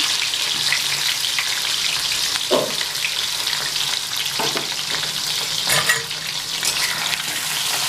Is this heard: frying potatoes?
yes